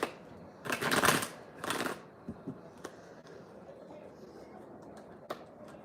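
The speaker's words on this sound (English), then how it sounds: "so I will just shuffle the cards." Tarot cards are riffled and shuffled in two quick bursts, followed by a few soft taps and clicks in a quiet room.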